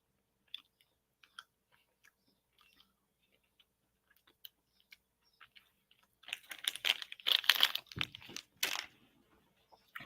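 Someone chews a dark chocolate covered mashed banana sweet: faint scattered clicks at first, then a dense burst of close, moist crunching and munching toward the end.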